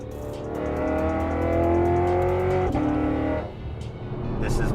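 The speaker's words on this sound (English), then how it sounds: "as you can hear, the car is quite loud" Loud engine of a Lexus RC F with about 450 wheel horsepower while driving, a steady rising drone that builds, shifts pitch sharply, then dips before picking up again.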